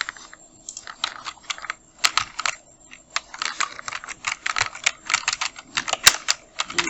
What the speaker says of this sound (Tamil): ஃபஸ்ட்டு நம்ம தமிழில் உள்ள அந்த மேட்ரு எல்லாத்தையும் டைப் பண்ணிவிடுவோம்